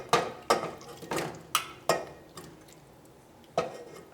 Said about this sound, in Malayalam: അതിന് വേണ്ടിയിട്ട് നമുക്ക് ഈ പാത്രത്തിലേക്ക് ചിക്കൻ ചേർക്കാം.